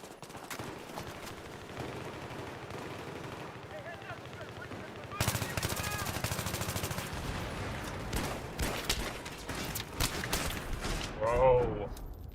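Battlefield 3 gunfire on PS3 comes as bursts of automatic weapon fire and shots, loud and layered, growing denser midway, with a brief voice near the end.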